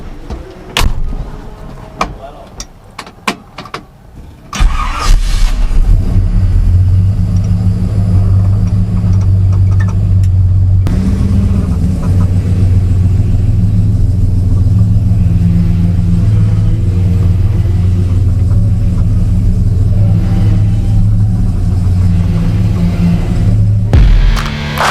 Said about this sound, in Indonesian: kita akan coba test drive mobil Impala dengan mesin V8 Edelbrock.